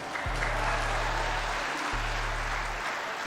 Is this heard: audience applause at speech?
yes